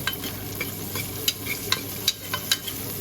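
Chopped onion frying in hot oil in a pan for a mutton chops gravy, a steady close sizzle with faint stirring scrapes and clicks recurring throughout.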